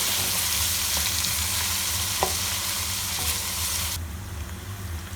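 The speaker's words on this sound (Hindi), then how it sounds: "और अच्छी तरह से इसको गोल्डन ब्राउन होने तक अच्छी तरह से फ्राई होने देंगे।" Finely chopped onion frying in hot oil, a dense, even sizzle close by with faint scrapes of stirring, holding steady for several seconds before the bright hiss softens near the end.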